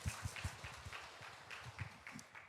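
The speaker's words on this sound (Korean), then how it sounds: "우리 축하의 박수하겠습니다" Congregation applauding during a Korean church Sunday service to celebrate members passing elder and pastor ordination exams; a steady patter of many hands clapping at moderate volume, with a few louder strokes near the start.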